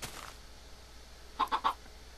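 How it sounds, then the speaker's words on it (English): A chicken in the Minecraft video game gives three quick, clear clucks in a row, moderately loud over a quiet background. "Chicken!"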